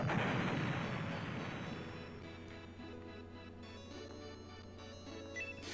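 Explosions from the Shining Force III video game, a loud burst that fades into a sustained rumbling roar with ringing tonal music layered throughout.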